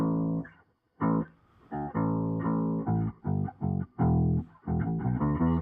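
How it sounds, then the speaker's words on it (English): The Seven Nation Army riff is played on electric guitar through a whammy pedal set to an octave-shifted tone, giving deep, bass-like notes. The riff comes loud and up close, alone, with a short gap after the first note. "He uses a whammy effect to do that with a guitar."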